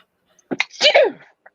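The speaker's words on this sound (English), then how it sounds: "hold on, sorry, sneeze." A single sharp sneeze, a quick gasping intake followed by a loud burst, close by with no talking around it.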